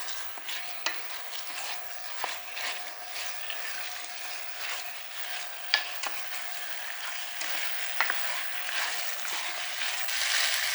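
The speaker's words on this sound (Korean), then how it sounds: "이 상태로 살짝 볶아 주겠습니다" Marinated chicken for Korean dakbokkeumtang is stir-fried in a pan, sizzling steadily while a utensil scrapes and clacks against the pan in scattered strokes, close and fairly clear, with no voices.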